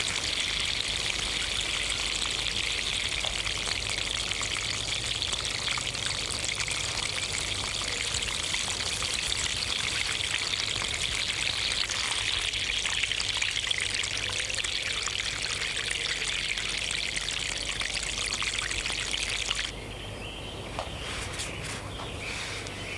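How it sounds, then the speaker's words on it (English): Water pours steadily into garden tubs and hanging baskets, a continuous close splashing stream that changes and softens near the end. "They need watering daily as well to keep them in tip-top condition."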